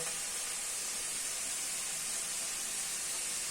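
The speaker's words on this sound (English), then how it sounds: "going to put the onions and garlic in now" Garlic and then onions dropped into a hot pan for a homemade chicken curry, giving a steady, fairly quiet broadband sizzle that holds evenly throughout with no talking.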